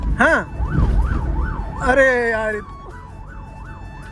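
Police-style siren wailing outside with a rising and falling tone, loud and close, briefly joined by a rapid yelp burst, with someone speaking over the start.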